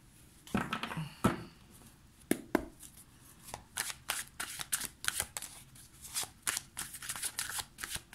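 A deck of tarot cards is shuffled close up, with repeated crisp riffles and soft flicks in a quick, uneven rhythm. A few louder slaps punctuate the shuffling throughout.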